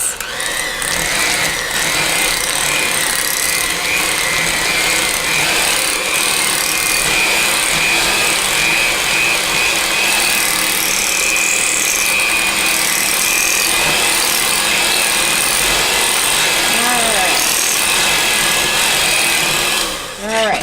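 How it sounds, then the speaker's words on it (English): An electric mixer whirs steadily and loudly at close range, blending room-temperature cream cheese until fluffy for cheesecake cupcakes, running continuously throughout. "You're going to blend this so it's just nice and fluffy."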